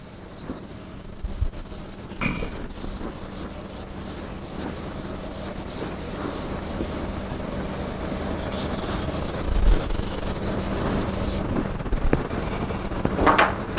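Writing being erased from a board during a maths lesson, a steady rough rubbing that runs on continuously under a noisy, hissy background, with no speech.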